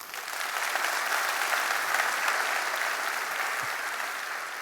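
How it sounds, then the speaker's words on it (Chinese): An audience at a corporate RIWAY event in Singapore claps steadily. The applause swells quickly, holds as a dense, even roar of many hands, then eases slightly toward the end. "我们给他一个掌声啊！"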